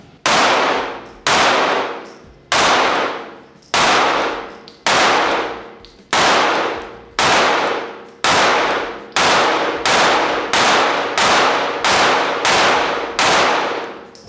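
Compact pistol shots ringing off a steel target at close range, about a dozen loud sharp clangs in steady succession, each with a bright metallic decay, no talking.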